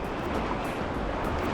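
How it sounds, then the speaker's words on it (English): Ocean waves wash against a rocky California shoreline at low tide, a steady, full surf roar with wind noise mixed in and no voices. "Here comes some waves, you gotta be careful."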